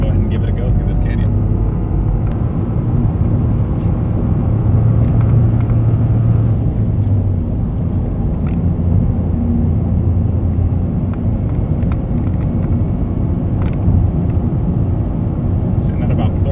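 A Toyota GR Corolla engine holds around 4000 RPM on a canyon drive, giving a steady, loud drone and road rumble with wind noise throughout.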